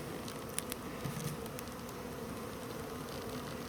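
Honey bees on a frame lifted from a hive make a faint, steady, low buzzing drone, with a few small taps and clicks near the start.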